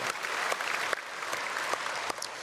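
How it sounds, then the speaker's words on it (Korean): Church congregation at a Sunday worship service applauds after a choir's praise song, steady dense clapping from many hands throughout, fairly close and even. "박수로 축복하겠습니다."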